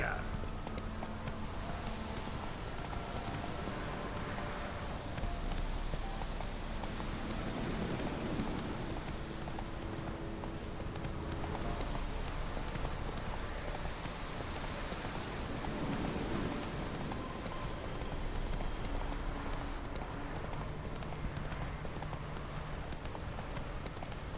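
Horse hooves clip-clopping in the video game The Witcher 3, a steady trotting rhythm under rain and distant thunder, with voices talking over parts of it.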